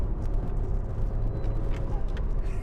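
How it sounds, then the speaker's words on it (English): Engine of a 2017 Suzuki Swift RS Turbo with a cold air intake, heard from inside the car as a steady low droning rumble under acceleration, with faint sharper hisses on top. "A cold air intake, and the sound it makes."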